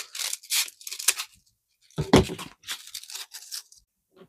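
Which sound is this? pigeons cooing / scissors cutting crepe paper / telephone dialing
scissors cutting crepe paper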